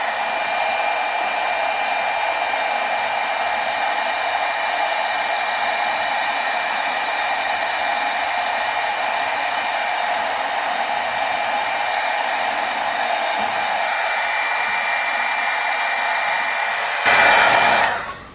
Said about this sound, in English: Warm up our heat gun here. Heat it from the back side.